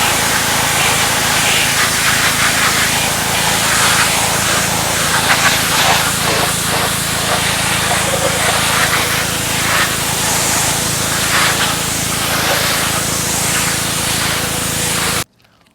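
Steady broadband water spray rinsing a heavily soiled car engine with 394,000 miles of dirt and grime, a continuous close hiss running without pause until it cuts off at the end.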